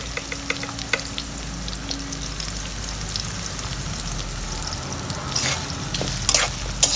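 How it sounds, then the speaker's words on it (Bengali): Onions sizzling in hot oil with a pinch of salt, being stirred, a steady crackling fry with bursts of spatula scraping and louder spitting near the end. "এখন আবার পেঁয়াজ দিয়ে দিলাম। পেঁয়াজটা তাড়াতাড়ি ভাজার জন্য অল্প একটু লবণ দেবো আমি।"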